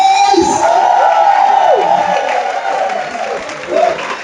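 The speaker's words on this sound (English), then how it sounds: "A round of applause. Make some noise." A crowd at a parents' appreciation day event cheers and whoops loudly, with shouts and raised voices rising and falling over scattered clapping.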